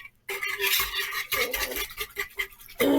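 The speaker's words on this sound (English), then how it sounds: "Keep stirring it until it gets filmy" A spoon stirs dry yeast into liquid in a bowl, producing continuous close scraping and clinking strokes with brief pauses between them.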